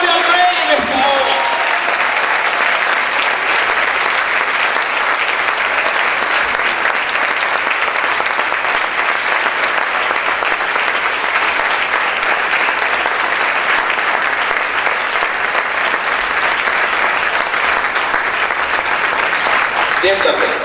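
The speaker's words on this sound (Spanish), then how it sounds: "Aplaude al Rey en esta hora." Church congregation applauding and cheering during a sermon, a dense, steady roar of clapping that holds loud and continuous throughout with voices mixed into the crowd noise.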